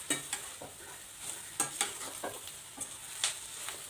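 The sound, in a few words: soya chunks (meal maker) frying in pan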